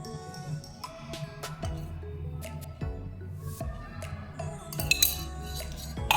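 A spoon clinks against a bowl as ghee is stirred into a peanut laddu mix for fasting sweets: several light, irregular metallic taps up close, with soft scraping in between.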